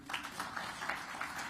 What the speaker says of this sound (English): So now you can clap hands for me.